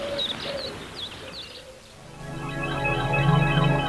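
Birds call from a roost near Kulik in the afternoon, with repeated chirps and rising whistles over a steady outdoor hiss and later a denser layered chorus.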